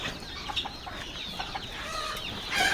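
Native village chickens and chicks cluck and peep softly in a farmyard, a scatter of short calls and faint chirps at moderate distance, with no one talking.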